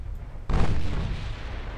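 Naval guns firing a heavy broadside in Ultimate Admiral Dreadnoughts, with 8-inch and 14-inch guns engaging a destroyer and a battleship; one deep, loud boom lands suddenly and rolls off into a long rumbling tail, with no talk.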